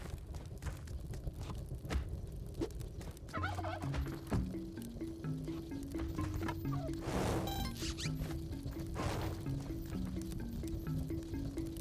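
Turkeys gobble in Spelunky 2, the bubbling game calls repeating through the clip over steady stepped background music and scattered game sound effects.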